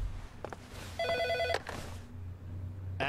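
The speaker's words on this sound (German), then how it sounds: "Telefon." A telephone rings in the video game Heavy Rain, a single loud electronic ring burst of about half a second standing out over a low background hum, with a couple of soft clicks before and after.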